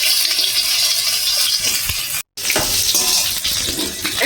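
Stuffed pointed gourd, spread with shrimp and spice paste, fries in a pan with a loud, steady, close sizzle that stays constant throughout, briefly cut by a moment of silence midway, with no talking.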